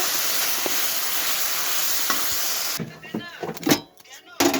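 Dal that was boiled earlier is stirred into a pan of fried vegetables: a steady sizzle for nearly three seconds, then it drops away into a few scattered scraping and clattering knocks close by.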